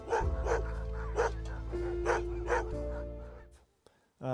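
Sled dogs bark in sharp, repeated yaps at a kennel on a glacier in Juneau, Alaska, several close and loud, with a whine or howl drifting underneath before the barking fades out.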